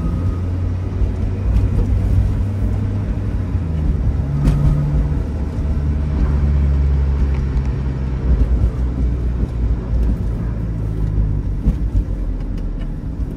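A Mazda Miata NA drives with its windows closed, its engine a steady low drone with some rises in pitch, near and continuous, with road rumble underneath.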